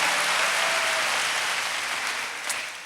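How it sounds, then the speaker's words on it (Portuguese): A congregation at a church service bursts into loud, dense clapping, a sustained wall of applause close by that tapers slightly toward the end. "Uma salva de palmas a esse Deus."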